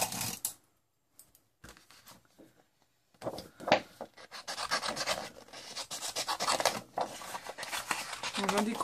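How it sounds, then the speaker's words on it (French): Small hand scissors snip through stamped paper, starting as a few sparse cuts and building into steady, close rasping strokes, with someone speaking French in between. "Je vais découper tout ça à la main, bien sûr."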